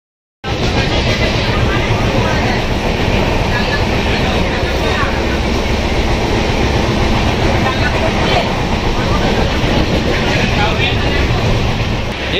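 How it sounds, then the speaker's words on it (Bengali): The Tamralipta Express 12857 runs from Howrah to Digha, heard as a loud, continuous rumble and rattle of wheels on rails, steady and close throughout the ride. "দেখো ট্রেন চলছে।"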